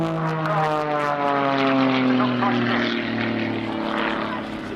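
Close and loud, the engine of a Jet Pitts aerobatic aircraft at the Cosford Air Show roars continuously with strong drifting tones as it passes, while a voice talks underneath.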